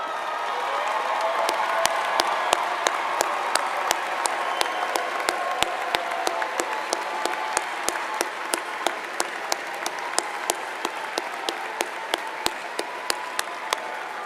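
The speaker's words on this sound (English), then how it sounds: "please stand and be recognized by our applause" Sustained audience applause at a university undergraduate commencement as graduates' mothers and grandmothers stand, a broad wash of many hands clapping with a steady rhythmic beat of nearby claps running through it, filling a large hall for about fourteen seconds.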